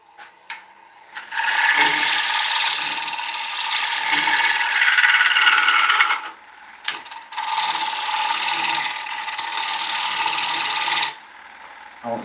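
A woodturning gouge cutting oak on a lathe, long loud bursts of harsh scraping and chattering, broken by short pauses and a few light knocks between cuts.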